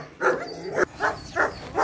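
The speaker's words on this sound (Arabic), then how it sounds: "ده الكلب اللي كان جاي" A farm dog barks in a quick series of four or five loud, close barks at a steady rhythm, with no talk over them.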